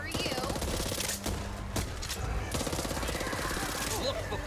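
Rapid bursts of gunfire from the Back 4 Blood co-op zombie shooter, dense and continuous across the moment, with players' voices chattering underneath the shots.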